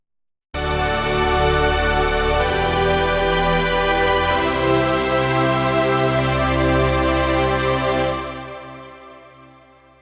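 A dense, layered Prophet 5 and OB6 synthesizer patch holds a rich sustained chord, with a bright lead on top, fading out gradually near the end.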